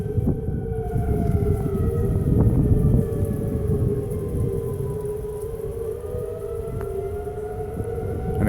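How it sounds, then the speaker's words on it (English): Outdoor storm warning sirens wail at a distance with long, slowly gliding tones over steady wind and rumbling background noise. "And the sirens are going"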